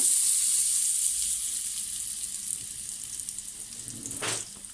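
Butter hits a hot pan while baby cheese kuymak is being made, giving a bright sizzling hiss that slowly fades, with a short splash or scrape near the end.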